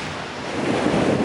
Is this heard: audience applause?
no